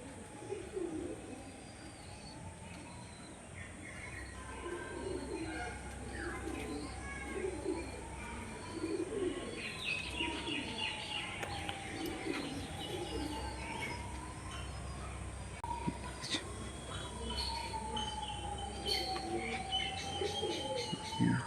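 Rare Pakistani pigeons coo in soft, repeated rolling calls, with lighter bird chirps scattered around them in a fairly quiet setting.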